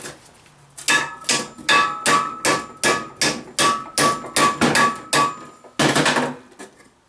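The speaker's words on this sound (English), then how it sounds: "take a chisel and just bing, bing, bing, bing, bing" A hammer strikes a chisel against the metal of a mulcher, a rapid series of about fifteen loud, ringing metallic clangs close by, with a brief pause before a final pair of blows.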